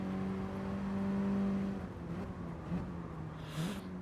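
Race car engine in the Mini Cooper Cup racing game at Blue Moon Bay infield, a steady droning whine holding pitch then easing as the car works through a turn, moderately loud and continuous with no talk.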